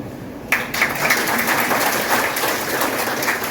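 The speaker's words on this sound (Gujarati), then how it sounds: "બધા તાળીઓથી જે તમે પાડીને તાળીઓથી ગડગડાટથી ઉતારી" An audience bursts into dense, sustained applause at a gathering on Dr. Babasaheb Ambedkar and OBC awakening in Gujarat, starting abruptly and holding steady and loud for about three seconds.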